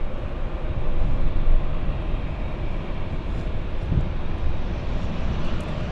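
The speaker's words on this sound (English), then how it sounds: "there goes that Hawaiian Dreamliner getting ready for their 5-hour flight to Hawaii" A Hawaiian Airlines Boeing Dreamliner passes at LAX before a five-hour flight to Hawaii, its broad, steady jet-engine roar loud and constant throughout with no talk.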